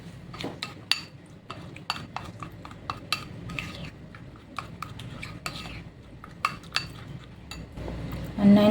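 A spoon stirs a flour-and-water paste in a bowl: irregular clinks and scrapes against the bowl, fairly close, with a louder rattle at the very end.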